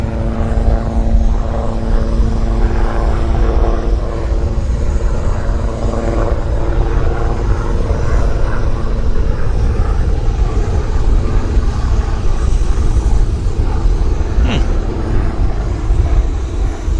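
Airplane throttling up for takeoff on runway 26 left at Vancouver airport, a loud, continuous engine roar that holds steady and close throughout.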